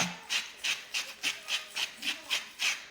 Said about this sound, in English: So you want about 10 grams of salt, which if you have a grinder like me, you'll be grinding forever.